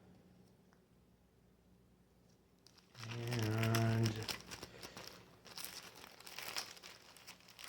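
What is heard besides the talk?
plastic packaging crinkling while unpacking old photos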